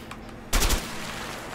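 Gunfire in the game A Way Out, a sudden loud burst of several rapid shots that decays into a lingering rumble.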